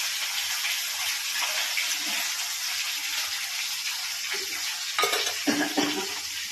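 Yogurt mixed with a paste of white mustard, salt, turmeric and green chili, stirred in a bowl with a steady wet scraping and squelching, close and continuous, with a few sharper clinks of the spoon near the end.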